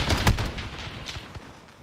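Rapid video-game gunfire in a competitive 2v2 gunfight match: a dense burst of shots near the start, then scattered fainter reports trailing off over a noisy background.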